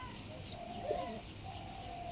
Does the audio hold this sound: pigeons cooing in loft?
yes